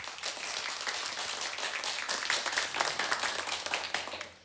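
An audience at a children's stage show claps in a lively, uneven burst of many hands, holding steady before tapering off at the end.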